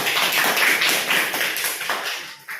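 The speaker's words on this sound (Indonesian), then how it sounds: "itu masih tepuk tangan buat Mbak Sarah." Steady group applause in a classroom counseling session, with dense overlapping claps, fairly loud and continuous, thinning slightly toward the end.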